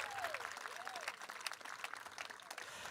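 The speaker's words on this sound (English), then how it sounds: "go ahead, you can applaud our seniors" A school audience applauds graduating seniors at an awards night, a faint, distant wash of steady clapping with a murmur of crowd noise.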